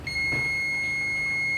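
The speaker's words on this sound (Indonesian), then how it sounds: "kalau dia berbunyi bip dan juga angka menunjukkan 0, artinya fuse-nya nyambung" A multimeter set to continuity beeps steadily while its probes touch a good fuse in an LED monitor power supply, one continuous high tone lasting the whole moment over faint background hum.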